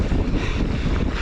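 Strong wind gusting across a cliffside on a downhill mountain bike run above Queenstown, a dense roaring buffet of wind against the microphone, loud and continuous.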